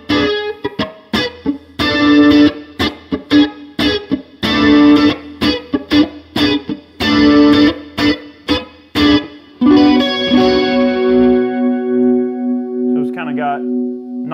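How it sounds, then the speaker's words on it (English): An electric guitar through a Boss Waza Craft CE-2w chorus pedal plays close and loud: rhythmic strummed and picked chords, then long ringing notes shimmering with a spacey chorus wobble. There is no talking during the playing. "Got nice spacey sound going there, which is really cool."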